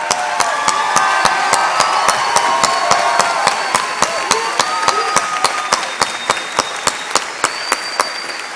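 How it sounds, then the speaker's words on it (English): A high school graduation crowd gives graduating students a standing ovation, with dense, loud applause filling the hall throughout, sharp rhythmic claps standing out near the front, and scattered cheers mixed in. "Please give the students in Section A standing ovation."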